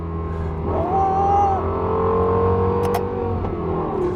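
A Lexus LFA engine revs under partial throttle, heard from inside the car as a smooth, close, tonal growl that rises briefly and then holds steady.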